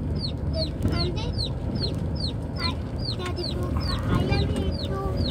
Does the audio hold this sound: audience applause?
no